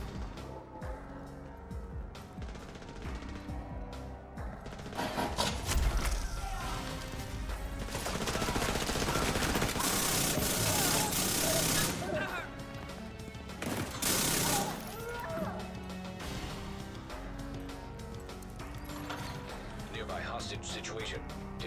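Rapid automatic gunfire from the Chatterbox gun in a shooter game, sustained bursts of dense firing with crashing impacts and mechanical clatter, while someone talks over the action.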